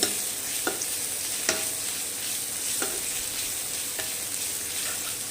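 Chopped garlic and ginger stirred in a frying pan: a steady bright sizzle with several distinct scraping strokes spaced about a second apart, close and moderately loud, with no speech.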